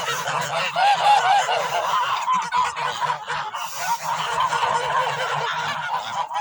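A flock of geese honks continuously and loudly nearby, their overlapping calls forming a dense, busy chorus.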